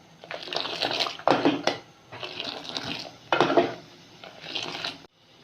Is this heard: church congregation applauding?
no